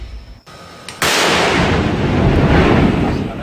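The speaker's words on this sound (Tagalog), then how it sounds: "kaya ginamit muli ng militar ang kanilang kanyon" After a brief quiet, a single loud military cannon blast booms at once and its heavy rumble rolls on and slowly fades into the distance.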